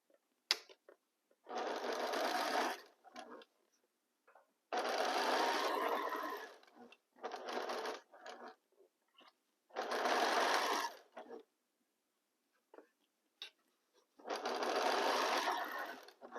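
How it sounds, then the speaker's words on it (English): Sewing machine stitching a double Z seam in several separate bursts of a few seconds each, with short quiet pauses between runs, close and steady. "Let's continue sewing."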